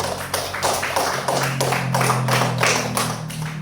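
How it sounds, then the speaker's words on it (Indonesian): Classroom of pupils clapping for the first group, several rhythmic bursts of hand claps in steady unison beats, fairly close and loud, with a faint hum underneath. "tepuk tangan dulu untuk kelompok 1"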